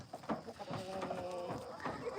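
Goats on a homestead bleating in a short burst of calls close by, with a person's voice speaking over and between the animal sounds.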